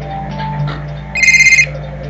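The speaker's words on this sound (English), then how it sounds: "Hang on, that's my phone." Phone ringing in the video game Criminal Case: a short burst of rapid electronic trilling pulses, fairly loud over a steady low game music bed, lasting about half a second.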